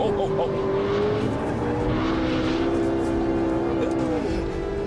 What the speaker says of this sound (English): We're now cornering at about 100 miles an hour.